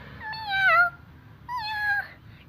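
A voice imitates a cat with two close, clear meows separated by a short pause, each rising and then falling in pitch.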